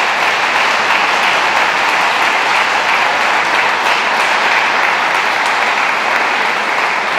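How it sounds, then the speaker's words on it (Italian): A church congregation at a Mass in Lavello's Chiesa Madre San Mauro breaks into loud, sustained applause, a dense steady wash of clapping filling the whole stretch with no talking over it. "Don Marco, benvenuto nella città di Lavello, lo accogliamo con un forte applauso."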